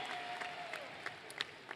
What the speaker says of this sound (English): We applaud all of you for a job well done.